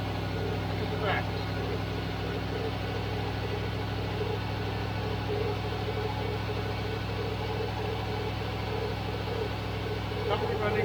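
A Range Rover engine runs steadily at 2000 RPM, a constant close mechanical drone with a strong low hum throughout and a couple of faint clicks, no talking.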